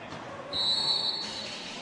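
A referee's whistle sounds in one sustained shrill blast at a basketball game between Ubroker Scandiano and Impredil Follonica, over steady crowd noise in an indoor arena.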